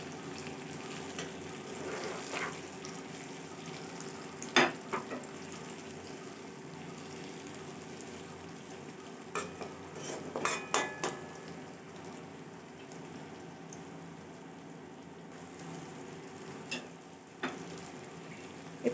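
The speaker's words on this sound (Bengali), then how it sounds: "আলতো করে নেড়ে নেব।" Fried pointed gourd pieces stirred gently with softened onions in a pan, a steady close sizzle with a few soft scraping strokes and light clicks scattered through.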